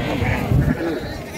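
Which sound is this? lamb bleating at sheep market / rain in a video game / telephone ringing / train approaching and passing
lamb bleating at sheep market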